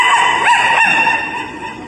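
A voice imitates a dog barking at a snake in the yard, giving two quick yelping barks in a short, loud, close burst.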